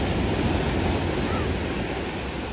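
Big ocean waves crashing on a shore, a loud continuous roar of surf with wind rushing across the microphone, steady and close, with no talk.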